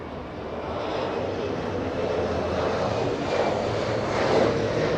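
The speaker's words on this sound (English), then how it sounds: "SkyWest 6248 flying in from Seattle, Washington" A SkyWest Embraer E175 regional airliner arriving at LAX from Seattle gives off a steady, moderately loud jet engine rumble that swells slightly near the end.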